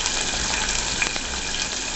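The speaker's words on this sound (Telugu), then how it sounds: "నూనె వేడైంది. ఇప్పుడు ఉల్లిపాయ ముక్కలు వేసుకుంటాను." Onion pieces fry in a generous amount of hot oil for eggplant curry, giving a steady, close, even sizzle throughout with a faint stir midway, no voices.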